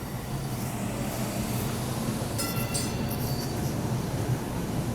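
A test train passes without stopping, producing a continuous, loud rumble of rolling rail wagons with a brief higher metallic squeal midway. No one talks over it.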